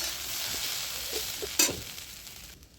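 Okra coated in flour or gram flour fries in a pan with a steady, close sizzle, broken by a few soft stirring scrapes and one sharp spit before the crackle thins out at the end.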